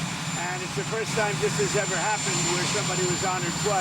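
The presidential helicopter Marine One runs outside, its engine giving a constant loud whine and roar beneath someone speaking to the press.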